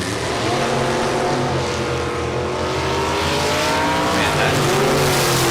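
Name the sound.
drag racing roadsters launching, 37 Chevy Roadster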